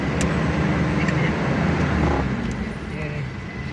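Stop-and-go traffic jam on a climbing road near Cililin: a steady, loud rumble of car and engine noise from inside a vehicle, easing slightly toward the end, with a voice speaking over it.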